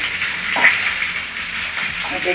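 Green chilies sizzle steadily in hot coconut oil with curry leaves, heat turned off, a continuous hiss with a faint voice in the background.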